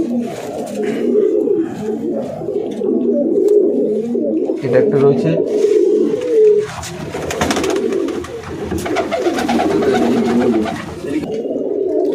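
Tournament racing pigeons in a loft coo in low, rolling murmurs close by, while someone talks over them for most of the stretch.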